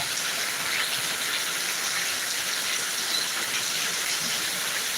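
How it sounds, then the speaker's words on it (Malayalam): Heavy rain pours down steadily in Thiruvananthapuram, Kerala, a dense, even hiss with no pauses and no voices. "ഓക്കെ ഫ്രണ്ട്സ് നല്ല അടിപൊളി മഴ കേട്ടോ കിടില മഴ"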